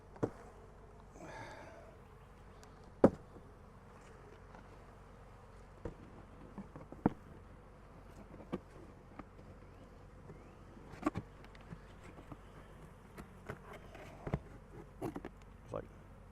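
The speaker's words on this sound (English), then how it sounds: "knocking these bees loose" Honey bees buzz faintly around an apiary hive during a swarm transfer, a soft steady drone broken by sharp clicks and knocks from hive handling.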